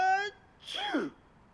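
A short voiced tone is followed by a sudden breathy burst with a falling pitch, like a single quick sneeze, close by.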